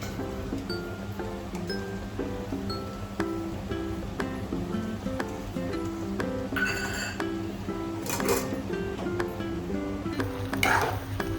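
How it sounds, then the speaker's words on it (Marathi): Paneer is stirred into soya bhurji in a pan with a steady soft sizzle under gentle scraping, accompanied by a few louder stirring scrapes near the end. "मिक्स करायचं आहे पनीर त्याच्यामध्ये."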